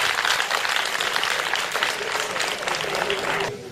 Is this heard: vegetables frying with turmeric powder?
no